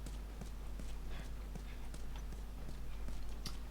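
Horse hooves clip-clop steadily in the video game The Last of Us, an even walking rhythm at moderate volume over a constant low hum.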